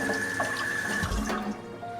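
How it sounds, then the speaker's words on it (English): Running water rinsing an antique glass bottle under a tap, a steady close splashing stream with a brief heavier gush partway through, no talking. "Just going to rinse it off a little bit."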